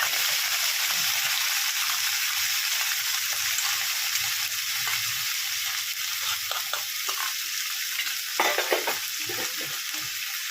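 Chilli chicken with soy and tomato sauce is stirred in a hot pan, giving a constant sizzle with scraping stirs and small splutters that grow busier toward the end.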